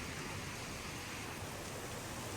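A dense, unbroken hiss of heavy rain falls during a storm in Lahore, steady and loud throughout with no voices.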